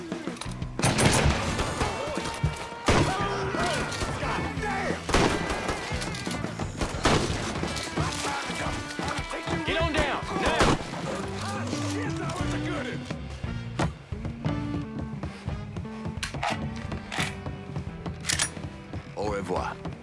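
Rapid gunfire from the video game Mafia III, bursts of automatic fire and single shots cracking loudly and densely throughout, with music beneath and shouted voices in between.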